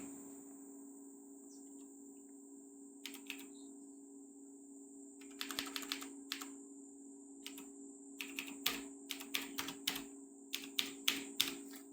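Keys clack on a computer keyboard as a number is entered, scattered taps turning into quicker bursts, heard close against a steady electronic hum and a high insect-like whine.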